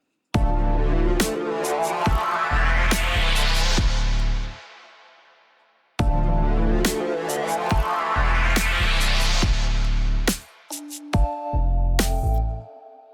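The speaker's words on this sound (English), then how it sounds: "Okay, that is the sound of mixbus compression." A loud, dense drum mix with heavy mix-bus compression pumping, the level dipping on each kick and snare hit and swelling back between them, played twice with a brief gap.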